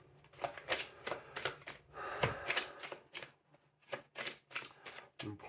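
Tarot cards shuffled and dealt out close by, in a run of quick, crisp riffling bursts separated by short pauses.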